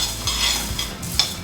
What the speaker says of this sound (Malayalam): ഇനി എടുത്ത് മല്ലി വറുത്തെടുക്കാം